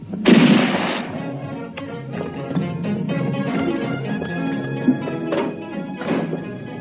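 Gunfire in a 1967 film: a loud burst at the start followed by scattered shots and thumps under a busy, noisy soundtrack, with music-like tones running through.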